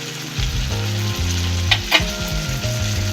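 Fish pieces fry in oil in a pan over a high flame, giving a loud, steady, close sizzle with soft stirring, and no one speaks.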